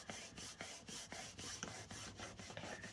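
A paper page being rubbed firmly down into a handmade recipe keeper journal, giving a steady series of about eight close, scratchy rasping strokes at an even rhythm, with no talking.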